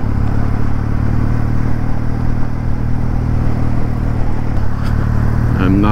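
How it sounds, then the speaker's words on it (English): Kawasaki W650 classic standard motorcycle riding over gravel in New Mexico, a constant loud engine drone with wind buffeting and road clatter, steady throughout with no talking. "We'll see how this bike does on a little bit of gravel"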